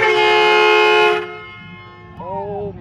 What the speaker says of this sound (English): That's a train horn.